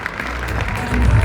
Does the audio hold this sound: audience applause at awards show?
yes